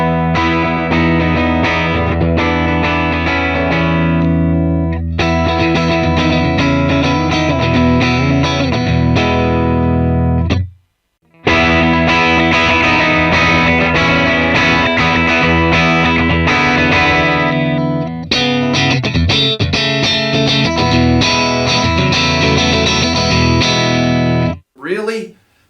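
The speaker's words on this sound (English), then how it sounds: "here is the sound of the guitar plugged straight into an amp, nothing else in between." An electric guitar plugged straight into an amp with nothing in between rings out loud and full, strummed and picked almost continuously, with one brief silent gap midway and a short pause near the end.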